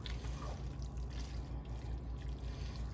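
Cheese sauce being stirred into a tuna noodle casserole over low heat, a continuous wet, sloshing churn with a soft low rhythmic pulse throughout.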